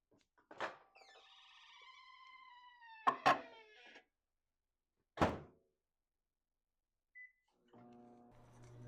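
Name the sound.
microwave door closing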